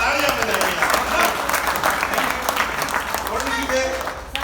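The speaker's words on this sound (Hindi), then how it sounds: "जोरदार तालियां बजाइए।" Audience applause at a laughter show, a dense, steady clatter of clapping from a crowd lasting throughout, fairly loud and continuous with a slight fade near the end.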